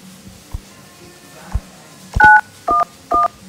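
Three short synthetic keypad beeps from a phone dialing 911, each a steady paired tone, come in quick succession after a few soft thumps, with no talking.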